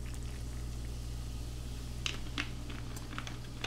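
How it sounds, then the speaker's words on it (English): Seltzer is poured into a pomegranate juice mojito, a soft fizzing trickle with scattered bubbly pops and ticks over a steady low hum, quiet and close. "So give it a nice pour of seltzer."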